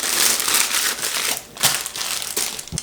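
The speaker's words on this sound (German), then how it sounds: "Jetzt kommt er mir in so eine Gefriertüte." Kefir cake dough is pushed into a plastic freezer bag, giving dense, continuous crinkling and crushing of plastic close up with a few sharper crackles near the end, no voices.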